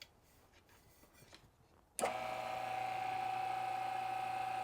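A vacuum chamber pump for degassing plastisol switches on abruptly after quiet, then runs as a loud steady motor whine and hum without pause.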